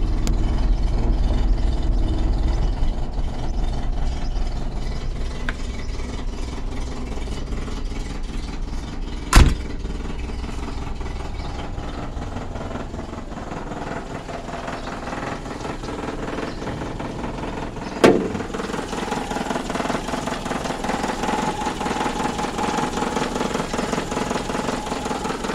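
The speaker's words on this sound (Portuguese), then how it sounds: "Motorzão na lenta aí, ó." Volkswagen Gol boxy-generation engine with a Weber 460 carburettor and a gas kit idling under an open hood: a steady, even idle with a rough, slightly knocking texture and two brief sharp clicks, with no talk.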